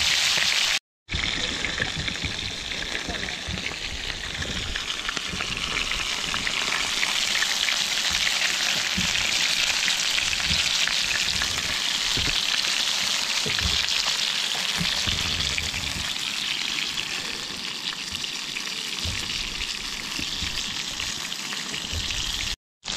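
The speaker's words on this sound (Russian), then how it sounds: "Котики опять приплыли смотреть, как мы тут рыбу жарим." Flounder frying in a pan on a boat, a steady loud sizzle and crackle that holds throughout with a few brief breaks at start and end, close and with no talk.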